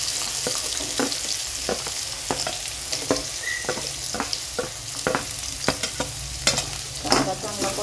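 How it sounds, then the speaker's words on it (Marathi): Garlic and onion sautéing in oil for a Maharashtrian onion vegetable dish, a steady close sizzle punctuated by regular spatula scrapes and stirring knocks, no speech. "लसूण चांगला परतून घ्यायचा तेलामध्ये। चांगला परतल्यामुळे फोडणी चांगली बसली ना लसणाची, छान चव येते भाजीला। लगेच कांदा घालायचा आहे।"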